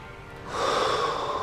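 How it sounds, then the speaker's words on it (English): A person hanging from a bar to stretch and lengthen the spine takes a single slow, audible breath. It starts as a soft airy draw and swells to a steady, close, breathy rush without talk. "I'm just gonna hang on here and breathe"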